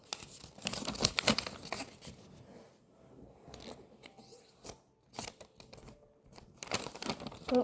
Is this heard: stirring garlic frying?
no